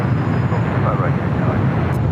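A Boeing 747-400 freighter, a heavy airliner, takes off from runway 25 right at LAX, its steady broadband engine roar filling the scene as a distant, continuous rumble with radio chatter faintly underneath.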